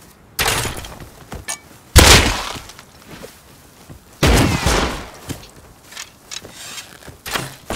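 Gunfire in the survival game Rust: several loud, sharp shots spaced irregularly, each with a short echoing tail, mixed with smaller clicks and thumps between them.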